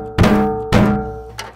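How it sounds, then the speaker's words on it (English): Kick drum and snare struck almost together in a flam, two loud close hits about half a second apart, followed by a fainter third hit, each one ringing out briefly. "take care to not flam between the kick and the snare"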